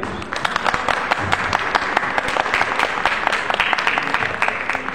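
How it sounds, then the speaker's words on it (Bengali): Audience applause at a movie poster launch event, a dense, steady patter of many hands clapping throughout, with the brisk, crackling texture of a sizable crowd. "আপনারা ওকে একটা হাততালি দিন"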